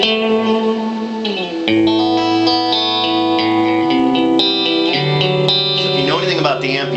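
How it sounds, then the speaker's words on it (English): An electric guitar plays sustained chords and single notes through the clean channel of a Mesa Boogie Road King II amplifier with its tube reverb on, giving a bright tone with a lingering reverb tail. "and I just have the tube reverb on there"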